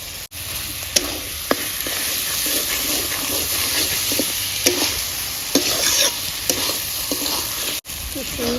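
Boiled octopus stir-frying in a pan with Kashmiri chili powder, a steady loud sizzle with scattered spoon scrapes and clicks throughout.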